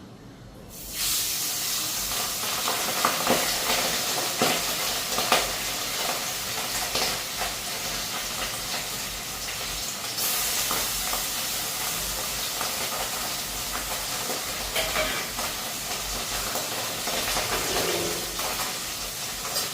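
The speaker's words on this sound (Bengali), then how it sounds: "এই মাছটা একটু হালকা ভাজা করে নিই" Fish, to be cooked with mustard, lightly frying in a pan, giving a steady hiss and sizzle that runs without a break the whole time, moderately loud and close, with no voices.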